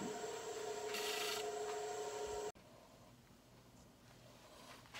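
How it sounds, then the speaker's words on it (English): Sandpaper rubs against a dry wooden bowl blank being finished after turning, a close, faint scratchy rasp in steady strokes that stops abruptly midway, leaving quiet room tone. "And I'm going to finish that with sandpaper."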